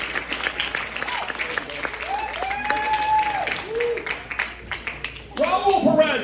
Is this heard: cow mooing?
no